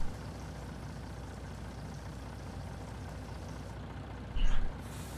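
A truck's air brake releases in Farming Simulator 19, a short loud hiss burst near the end over a steady engine hum.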